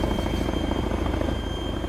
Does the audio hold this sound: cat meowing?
no